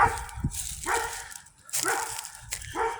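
Dogs near a chicken pen give several barks and yips in short bursts, fairly close, with brief pauses between.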